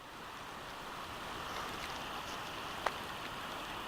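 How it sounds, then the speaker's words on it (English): Water flowing in Hurricane Creek at a backcountry camp, a steady, faint wash and rush with a soft wind-like hiss, continuous and without voices. "Can you hear the water?"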